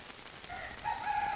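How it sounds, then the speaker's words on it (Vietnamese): A rooster crows once in a comedy sketch, a faint, rising then sustained call that swells near the end over a soft background hiss. "Mà tao nghe thấy tiếng gà gáy ở đâu ấy nhỉ?"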